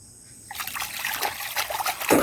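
Hands splashing and rinsing in a village pond at night, a soft trickling and sloshing of water that starts after a brief quiet moment and continues steadily, close by, with a slightly louder splash at the end.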